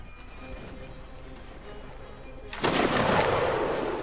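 Musket gunfire in the Napoleonic Wars video game, a sudden loud volley of shots that follows a quieter stretch of ambient game noise and keeps rumbling until the end.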